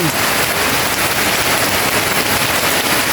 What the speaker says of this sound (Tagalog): Sa lakas po ng ulan.